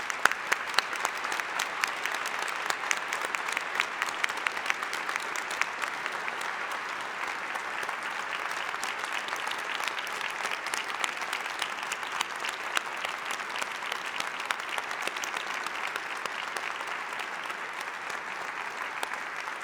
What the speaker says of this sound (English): will you please join me in giving a humdinger clap of congratulations to all our